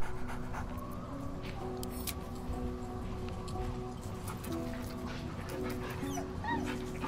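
Dog in Baldur's Gate 3 being petted, giving soft whimpers, pants and small yips over a steady background of game ambience and music, with no voices.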